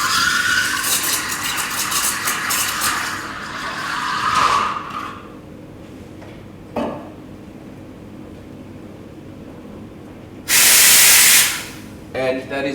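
An espresso machine steam wand hisses as it is run through a jug of hot water for cleaning, a loud broadband rush in steady stretches, with a sharp burst of high hiss near the end.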